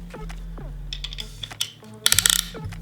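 Ratchet clicks as a piston ring compressor is tightened around a Jeep 4.0 oversize piston, a series of sharp metallic clicks and short pawl ticks up close, ending in a quick burst of rapid clicking.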